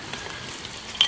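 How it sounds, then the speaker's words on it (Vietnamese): Garlic fries in a pan with a steady, hissing sizzle, brief and fairly close, with no voices. "bây giờ bắt đầu chiên tỏi đã"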